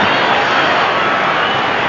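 A large Adelaide crowd at Football Park roars during a 1993 AFL match against Melbourne, a dense, loud, continuous wash of cheering with no distinct voices.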